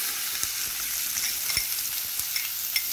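Garlic cloves and onion fry in a pan with a steady, dense sizzle throughout, broken by occasional soft pops and stirring crackles. The sound is close and continuous, with no voices.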